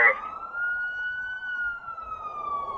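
A police car's siren wails steadily and continuously at moderate distance as it pursues a suspect's truck in a high-speed chase on public roads, holding a sustained tone throughout.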